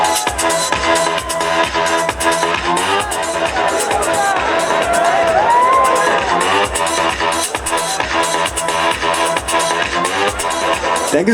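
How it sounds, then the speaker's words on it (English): Audience at a fashion show final round cheering and applauding, loud crowd noise and clapping mixed with music and babble, sustained and dense throughout. "Give me a huge round of applause."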